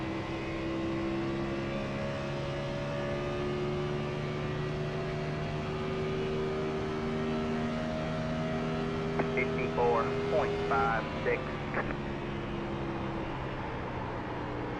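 Race car engine in the iRacing sim, a steady droning engine tone held at constant pitch under someone talking, with brief scattered clicks near the end.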